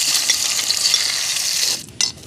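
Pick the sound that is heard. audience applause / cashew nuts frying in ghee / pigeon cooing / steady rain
cashew nuts frying in ghee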